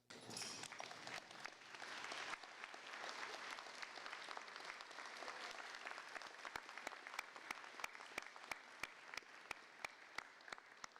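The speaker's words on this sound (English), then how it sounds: "give them a big round of applause" Graduates at the NCSSM 2026 recognition ceremony applaud their parents and families; dense, fairly distant clapping gradually thins into a few scattered, sharper claps.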